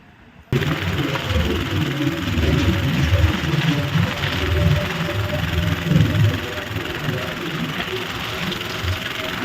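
A tractor engine idles with a steady low rumble and rises slightly in revs, running continuously close by at a loud level after a brief quiet start.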